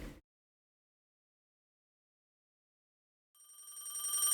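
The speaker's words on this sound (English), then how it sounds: "A ringing sounded through the darkness, echoing through the soulless house." A telephone rings in the Dreambound video game, an electronic bell trill starting after near-total silence and growing steadily louder, heard alone.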